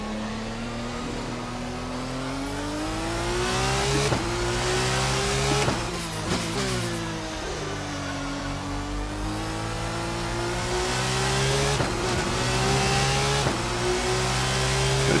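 An RSS 2 race car engine in the Assetto Corsa racing game screams near 300 km/h on a front straight, its pitch climbing and dropping through several quick gear shifts, loud and continuous with no talk.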